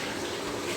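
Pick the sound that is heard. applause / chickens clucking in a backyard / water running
water running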